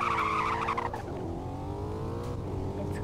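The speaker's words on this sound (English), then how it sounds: "Let's rev the engines." Car engines in a speed test roar at high revs as tyres squeal in a long, steady skid, the pitch sliding down and then holding, loud and close with no talk.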